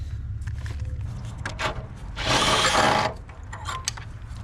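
Bolts come out of a MAF sensor housing with a tool: light mechanical clicks and ticks, then one loud whirring burst of under a second in the middle, followed by a few more small clicks.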